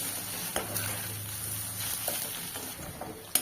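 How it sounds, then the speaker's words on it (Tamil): Soft sizzling of spices sautéing in a pan for mushroom curry gravy, with a few scraping stirs and a sharp clink near the end. "இதெல்லாம் நல்லா பச்சை வாட போகிற வரைக்கும் நல்லா வதக்கி விட்டுக்கோங்க"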